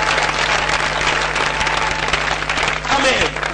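A church congregation at a convention claps loudly and steadily throughout, dense continuous applause with voices mixed in underneath.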